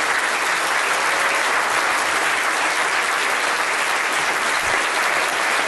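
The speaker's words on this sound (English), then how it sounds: "give them a round of applause" An audience breaks into sustained applause, a dense, even roar of many hands clapping at full volume without a break for nearly six seconds.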